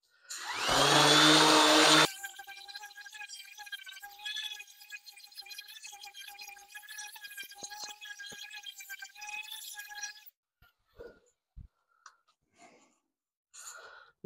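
An angle grinder with a 60 grit sanding disc power carving driftwood. It gives a loud two-second whine, then a lighter, rattling, abrasive grinding hum runs for about eight seconds before scattered faint taps.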